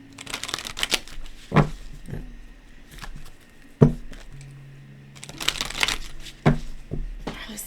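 Playing cards are shuffled repeatedly nearby, crisp riffling bursts and soft slaps coming in uneven spurts with short pauses, no talking.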